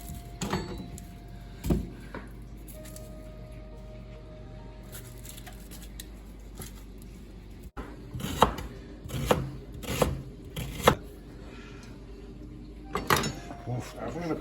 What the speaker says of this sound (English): I'm gonna cut up our onion now